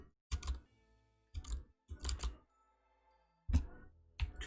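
Computer keyboard keys pressed in a video game speedrun. Four or five separate bursts of close, loud clacking are split by short quiet pauses.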